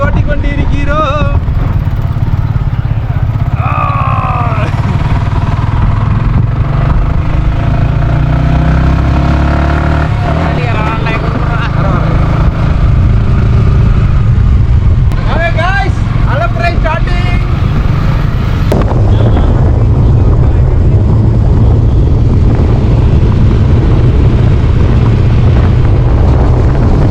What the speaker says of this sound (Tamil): R15 ஓட்டிக்கொண்டு இருக்கிறோம்.